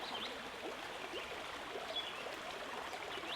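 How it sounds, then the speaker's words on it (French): Gentle sea waves washing in and out on a sandy beach by a calm sea, a soft, steady hiss of water that holds at a low, even level throughout with no voices. "le son des vagues qui va et viennent"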